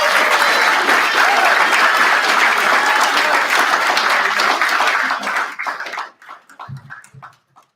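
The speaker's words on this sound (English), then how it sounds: "can we give another round of applause for Dahlia?" A crowd at the Pasifika Fusion 2024 speech event gives loud, sustained applause after a speech, fading out to scattered claps and a few cheers near the end.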